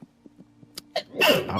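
A single sharp, close sneeze bursts out after a few soft breaths and small sounds during a tabletop role-playing game session.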